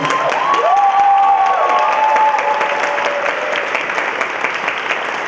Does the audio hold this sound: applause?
yes